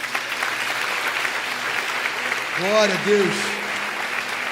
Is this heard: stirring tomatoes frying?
no